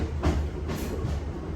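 A passenger train runs on bullhead rail near Southport, heard from inside as a steady low rumble with faint wheel clicks and a brief bump early on.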